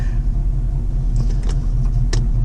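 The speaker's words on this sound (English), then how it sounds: "I just like listening to the sound of the car." Engine of a 1976 Camaro rumbling steadily from inside the cabin while driving at dusk, a loud continuous low drone with a few faint clicks and rattles over it.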